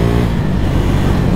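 Motorcycle engine pulling steadily under acceleration while the rider stands on the pegs, a loud, continuous close-up drone with rough low rumble and no break.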